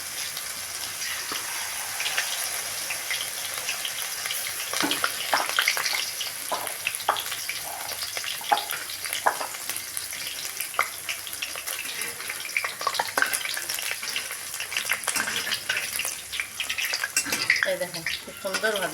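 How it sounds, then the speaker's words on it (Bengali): Shredded banana flower frying over fairly high heat in hot oil in a home kitchen, with a steady, loud sizzle and crackle that keeps going and sometimes sounds like running water. "গরম তেলে হিটটা একটু বেশিতেই ভাজতে হবে।"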